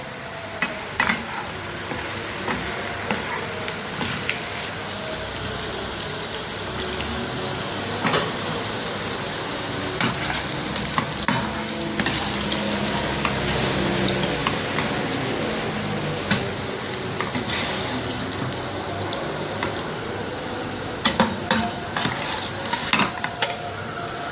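Garlic frying in hot oil in a pan for bitter gourd pickle, a continuous close sizzle with frequent scraping stirs of a spoon against the pan throughout.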